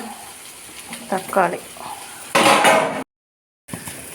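Onions and shallots stirred in a pan during home cooking, with clattering utensil scrapes and a loud sizzling burst, close by. A brief gap of silence follows, and no one speaks.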